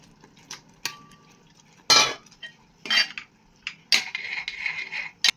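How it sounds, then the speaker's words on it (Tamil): Cut paneer cubes are added to a cooked gravy in a pan, heard as a few separate clinks and scrapes of a spoon against the pan, ending in a longer burst of stirring. "நான் இப்போ கட் பண்ண பன்னீர் க்யூப்ஸை சேர்க்க போகிறேன்."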